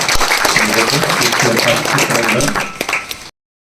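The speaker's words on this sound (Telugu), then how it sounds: "అందరూ చప్పట్లతోటి సంతోషాన్ని వ్యక్తం చేయాలి" A crowd claps at the opening of a paddy procurement centre in Seethampeta village. The applause is loud and sustained for about three seconds, then breaks into a few scattered claps before cutting off.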